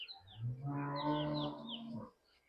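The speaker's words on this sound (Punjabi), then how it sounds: "ਮਾੜਾ ਜਾ ਬੋਲੀ ਵੱਛੀ ਚੰਗੀ ਆ" A young female calf gives one long, drawn-out moo, close and clear, rising then fading, with no talking around it.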